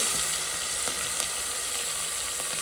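Mutton rubbed with turmeric and salt frying in oil over a village wood-fired clay stove, a steady close sizzle with faint stirring clicks.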